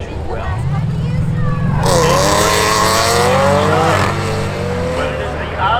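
An Audi race car launches at spectator drags at Seekonk Speedway, engine rising into a loud, climbing rev with tire squeal as a second car roars alongside, close and powerful, then the pitch drops as they pull away.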